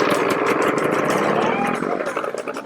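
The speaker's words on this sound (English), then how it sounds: "The teams must check that their engines start and run smoothly" A homemade aircraft engine built from junkyard parts runs with a loud, rapid chugging beat that sputters and turns uneven as it fades toward the end, heard close and under a speaking voice.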